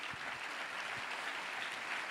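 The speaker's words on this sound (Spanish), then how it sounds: "dele palmas al Señor" A congregation at a church retreat claps for the Lord, a steady wash of applause from many hands that sounds fairly distant and stays level throughout.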